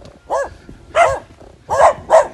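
Several dogs bark in short, loud bursts at the approach to a home in the mountain village of San José Konkixp, Mixe region, Oaxaca, Mexico; four distinct barks come in an uneven rhythm, close by, with no talking.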